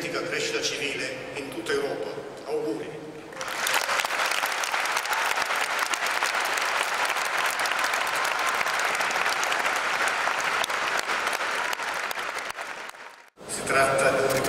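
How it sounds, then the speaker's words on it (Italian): Long, dense applause from a large crowd thanking the President as he leaves through the people, a sustained roar of clapping that starts under a reporter's voice, runs for about ten seconds and then cuts off abruptly. "un lungo, lunghissimo applauso di ringraziamento"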